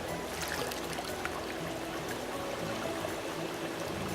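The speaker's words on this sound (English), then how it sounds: "this is water that's running in the streams outside, and it originates as glacier water?" Glacier-fed water runs steadily through a salmon hatchery in Chile, a continuous close rushing and trickling flow with no break.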